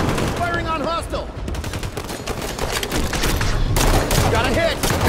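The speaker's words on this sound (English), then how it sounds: "Firing on hostile!" Sustained gunfire in the video game Halo 5 Guardians during a fight against Warden Eternal, rapid automatic bursts layered with loud shots, while voices call out over the shooting.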